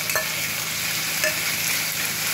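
Masala of onion, green chilli, chopped tomato and ginger-garlic paste frying in a pan with a splash of water, a loud continuous sizzle with a few faint spoon scrapes, close and steady with no talk.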